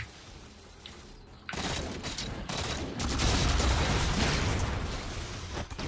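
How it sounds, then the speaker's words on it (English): Gunfire rakes the player in Halo 4: after a quiet start, a sudden dense burst of rapid shots erupts and keeps going loudly and continuously to the end. "I'm getting shot."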